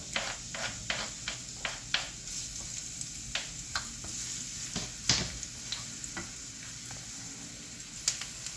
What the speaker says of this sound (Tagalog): Init na ang atong mantika. Ilunod na nato ang sibuyas.